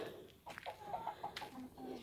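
Soft, short clucks from a few nearby chickens, quiet and intermittent.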